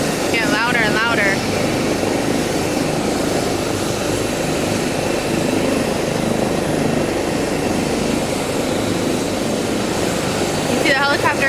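A helicopter takes off in Greenfield, Massachusetts, its engine and rotor roar holding steady and loud from start to end, with brief higher-pitched sounds near the start and finish.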